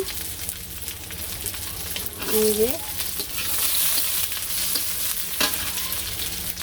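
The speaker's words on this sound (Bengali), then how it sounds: "পেস্টটা ভাজা হয়ে গেছে" Spice paste with chopped onion and green chilies fried in oil in a village kitchen, giving a steady loud sizzle with stirring scrapes and a brief squeaky clatter partway through, and no speech.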